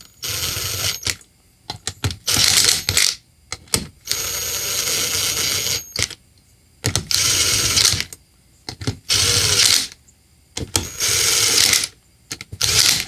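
A stubby ratchet tightens bolts on a vintage 1965 Ariens snowblower, producing close, loud bursts of rapid clicking separated by short silences, with no talking.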